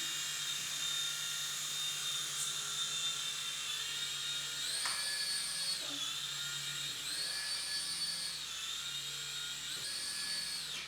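A small battery-powered toy helicopter whirs in a high, steady electric whine the whole time, its pitch rising and dipping as it flies close by.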